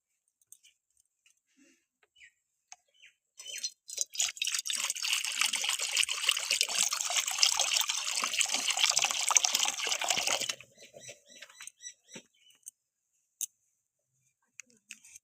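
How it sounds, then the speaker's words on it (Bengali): Water is poured onto sugar in a pan to make syrup for goja, a steady close trickling splash of about seven seconds between faint clinks, without speech. "পাঁচশো চিনির সাথে আমি আড়াইশো গ্রাম জল দেবো"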